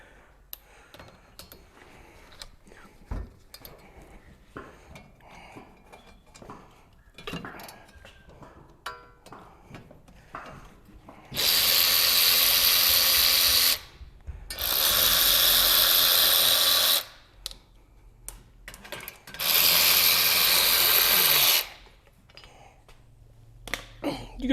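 A ratchet clicks through scattered turns on the brake shield bolts of a Subaru BRZ, then three long, loud bursts of a power tool whir in, each a few seconds long, separated by short pauses.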